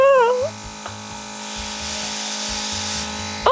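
Temptu airbrush makeup sprayer running with a steady, thin hissing whir and a low pulsing motor hum, close to the microphone, after a brief high voice sound at the start.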